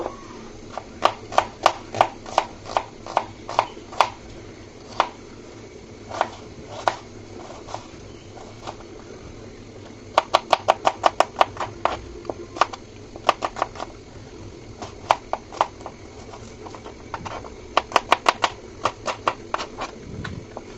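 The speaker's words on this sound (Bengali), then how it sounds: "পেঁয়াজগুলোকেও আমি কুচি কুচি করে কেটে নিব" A knife chops onions finely by hand on a board, crisp rapid taps in quick bursts with short pauses between runs, close and clear over a faint background hum.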